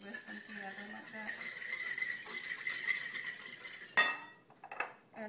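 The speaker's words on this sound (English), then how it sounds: "Just kind of whisk them together like that." Lemon juice, olive oil and white wine being whisked together in a bowl, a steady metallic clinking and scraping that runs for several seconds before a sharper clack near the end.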